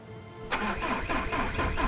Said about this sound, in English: Start engine.